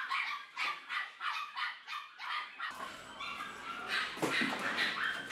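Several dogs in a kennel bark and yip in a rapid, rhythmic run of barks, moderately close, giving way to busier, overlapping yelps and whimpers as the barking continues, with no talk.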